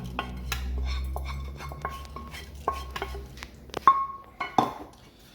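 Rice and water stirred together in a pot, with a spoon scraping and clinking against the metal in an irregular series of knocks and rings, close up and alone.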